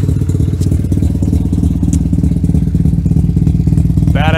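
Modified Mazda RX-7 FD rotary engine, tuned on a Haltech Elite, idles roughly with a choppy, loud brapping pulse near 1200 RPM, then a sharp rev rises at the end, all close and steady with no talk.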